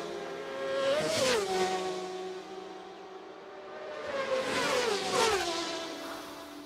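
A racing motorcycle in sixth gear screams past twice at the Isle of Man TT, each pass rising in pitch then dropping away as it recedes, loud and sustained at full throttle.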